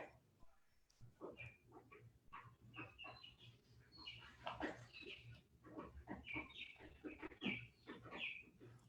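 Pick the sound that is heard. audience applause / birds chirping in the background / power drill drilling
birds chirping in the background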